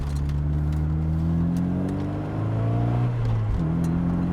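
An Evante British sports car driving close by, its engine droning steadily with pitch rising and falling through gear changes, alone without talk.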